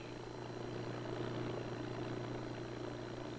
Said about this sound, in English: Driven by an airplane propeller, the boat cannot foul in the weeds.